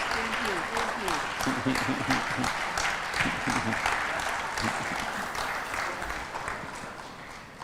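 Audience applause fills a State House dinner, steady clapping from a crowd through most of the stretch and thinning toward the end, with a brief spoken thanks over it.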